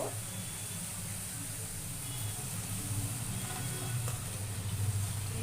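Chital fish muitha dumplings frying in spice masala, a steady close sizzle and hiss running throughout with faint stirring underneath.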